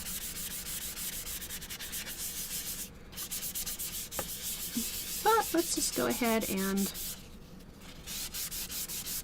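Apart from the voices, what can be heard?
light sanding of a wood burning to remove graphite lines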